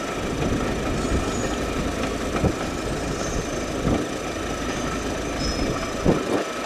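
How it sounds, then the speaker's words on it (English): The Royal Scotsman train rolls along the track on a morning run in the Scottish Highlands, heard as a steady, even rumble with faint squeals and a few soft clunks, and no voices. "Love the sound there of the train just making its way along the tracks."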